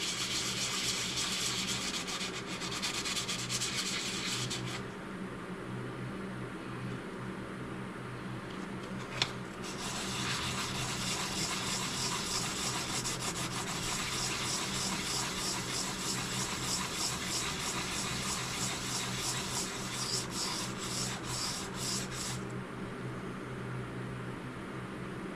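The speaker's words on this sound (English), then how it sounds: "It's just a piece of sandpaper." Sandpaper is rubbed by hand in small figure-eight strokes on an air compressor, a continuous close rasping scrape lasting about twenty-five seconds with brief shifts in intensity and no talk.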